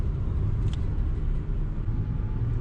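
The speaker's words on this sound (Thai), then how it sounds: "เรากำลังขับรถขึ้นมาที่ดอยผาตั้งนะครับ" A car climbs the paved road up to Doi Pha Tang in Chiang Rai, its engine a steady, close low rumble droning on evenly throughout with no talking.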